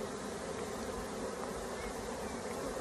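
A honeybee swarm with drones crawling on a fingertip, a dense steady buzz of many bees close by, filling the scene without pause.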